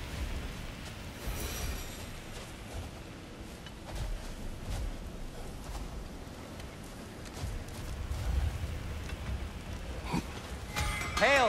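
Steady rain hisses through a stormy wilderness in God of War Ragnarok, a dense, fairly faint wash with low rumbling underneath and occasional brief louder sounds.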